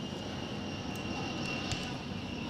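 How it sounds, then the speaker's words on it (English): A military plane passes overhead near an Air Force Base during a youth baseball game, a faint, steady distant engine drone lasting a few seconds. "That'd be a plane flying over, as there is the Air Force Base right down the road from us"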